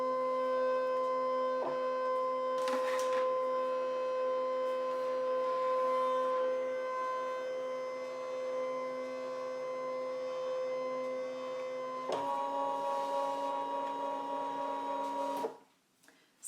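Brother ScanNCut cutting machine running a background scan, a steady motor hum with tonal whine interrupted by brief clicks and clunks, ending in an abrupt stop and quiet.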